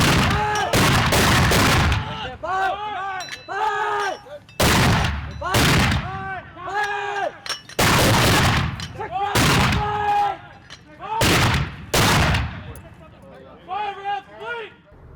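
Heavy mortar fire during a night fire mission in Afghanistan, a series of loud, sharp booming blasts in irregular bursts, with people talking and shouting between and over the reports.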